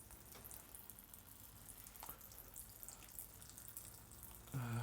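Fluid drains from a 1098cc A Series engine of a Morris Minor Convertible during a strip-down, a faint, steady trickle and patter of liquid with occasional drips, growing briefly louder near the end.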